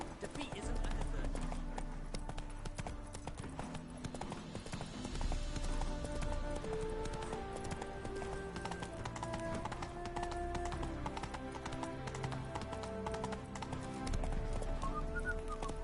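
Horse hooves clip-clopping at a gallop in The Witcher 3, a steady rhythmic beat running throughout under layered game music, with a voice speaking briefly.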